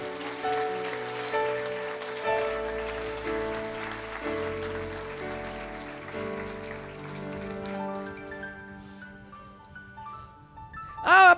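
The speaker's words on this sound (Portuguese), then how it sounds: "Aplauda Jesus" A church congregation applauds in praise, a steady wash of clapping blended with sustained keyboard worship music throughout, rising into a brief louder burst at the very end.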